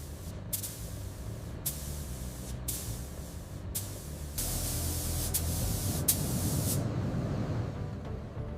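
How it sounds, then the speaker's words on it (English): Spray gun laying clear coat onto 2005 Ford GT body panels in controlled layering passes, a steady close hiss in bursts of about a second with brief gaps, then a longer louder continuous spray. "Clear coat applied in controlled layering passes."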